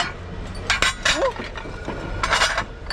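Porcelain kitchenware clinks and knocks together as pieces are handled, with several bright, scattered chinks and clatters close by and no one talking.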